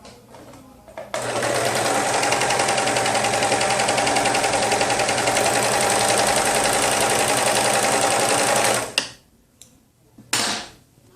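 A sewing machine runs in one long, fast continuous burst while stitching the shoulder seam of a T-shirt, a loud, close mechanical whir that stops abruptly, followed by a brief short second run.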